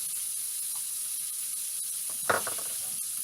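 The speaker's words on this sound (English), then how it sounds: "Sauteing involves high heat." Shallots sauteing in hot oil on high heat, a steady bright sizzle and hiss throughout with a brief louder crackling burst partway through, close by.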